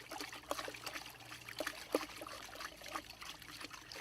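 Water is stirred into a vortex in a container for a biodynamic soil activator, giving faint, continuous trickling and swishing with small splashy accents throughout.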